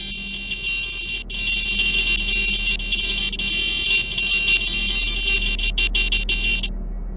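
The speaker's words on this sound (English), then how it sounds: "That horn is pretty accurate, but I expected a more of a single chime horn," Horn of a 2007 Mazdaspeed3 sounding in a sustained, loud, close blast lasting several seconds with a couple of brief breaks near the end, over the running engine's low hum.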